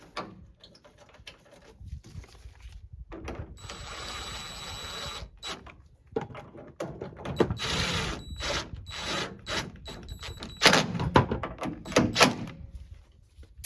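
Bolts are fitted and run in on a 2007-2013 Toyota Tundra tailgate hinge, giving close metallic clicks, ratcheting and clanks in irregular bursts with short quiet gaps over about fourteen seconds.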